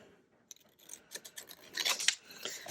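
Scissors cut the corner of a paper folder, with a few light snips that build into a denser, crisp run of close cutting strokes.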